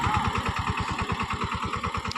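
A tractor engine runs steadily close by with a regular chugging pulse while working a field in a village.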